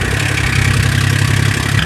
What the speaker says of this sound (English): What is that god-awful sound, you say? Well, it turns out that's the exhaust leak that I have just over here.